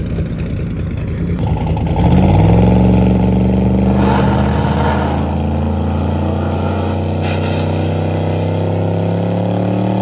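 A drag racing car makes a pass on a drag strip, its loud engine climbing sharply in pitch to a strained, sustained roar that holds steady to the end.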